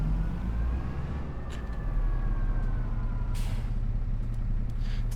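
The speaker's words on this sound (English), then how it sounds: "And turn the engine off." A truck engine idles in Farming Simulator 25, a steady low drone with a faint whine, brief hisses and clicks, and a short airy burst midway, heard alone.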